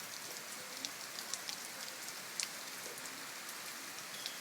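Soft, steady rainfall patters faintly and evenly, broken by a few sharper drop ticks now and then.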